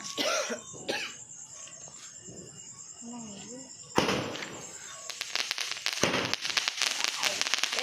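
A roll shot firework fires into the sky outdoors, giving sharp cracks and crackling bursts mixed with coughing and people talking.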